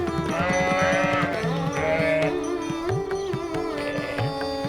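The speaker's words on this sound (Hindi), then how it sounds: "भेड़ और गाय की आवाज, और खेलते हुए बच्चे।" Sheep in a Himalayan village bleat loudly and repeatedly up close, with overlapping wavering calls from several animals against a steady outdoor background.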